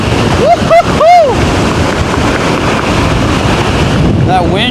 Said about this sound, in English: That wind is creating some wobbles, man. It's a strong wind.